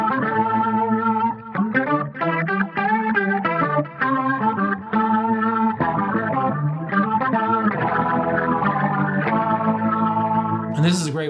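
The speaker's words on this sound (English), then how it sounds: "This one's a fun one, Synth Lead." A synthetic, buzzy guitar lead tone from a Synth Lead effect patch, with chorus and echo, plays choppy staccato notes, then smoother sustained lines, ending with a squealing high flourish.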